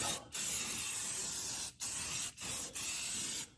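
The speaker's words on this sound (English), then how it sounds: "Everywhere you welded, everywhere there's bare metal, give it a good light coat." An aerosol can sprays a light coat onto bare welded metal on a 1949–51 Mercury, a steady close hiss broken by four short pauses between bursts.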